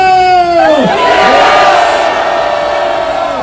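A large crowd shouts together at a conservative rally in Seoul Station square, loud and close, with rising and falling chant-like cries that ring out and then blend into a sustained roar.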